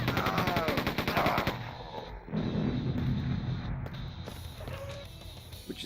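Rapid automatic gunfire from a retro first-person shooter played in VR rattles out in a dense burst, then gives way to steadier game noise with faint recoil-driven shots; no one talks.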